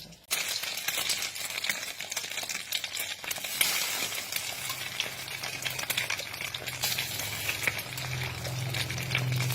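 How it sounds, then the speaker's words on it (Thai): Long eggplant slices dipped in egg fry in hot oil, giving a steady, close, dense sizzle that crackles continuously, with a faint low hum rising toward the end. "มะเขือยาว ทอดทอดชุบไข่ ชุบไข่ทอด"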